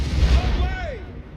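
Low, rumbling booms of artillery firing in a Total War Warhammer battle, heavy thuds under a commentator's voice, with a brief tonal whine curving downward.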